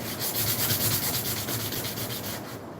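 Sandpaper rubbed by hand over an old Lasko Ultra Force box fan, a steady loud rasping scrape in quick repeated strokes for about three seconds, with no talking.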